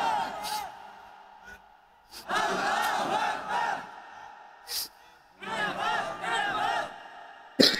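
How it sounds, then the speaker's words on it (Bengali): At a Bangladeshi waz sermon, a large crowd shouts the takbir, Allahu Akbar, in two loud, sustained collective roars. A quieter stretch separates them, and a lone voice is heard calling in between. "আপনাদের মধ্যে একজন তাকবীর দেন দেখি"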